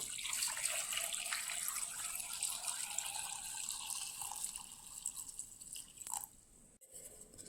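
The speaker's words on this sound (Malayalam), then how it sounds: "ഇനി ഇതിലേക്ക് നികക്കെ വെള്ളം ഒഴിച്ച് കൊടുക്കാം" Water streams steadily into a pressure cooker pot with a continuous hissing splash that ends abruptly near the close, with no voices.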